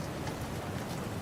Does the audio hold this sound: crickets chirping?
no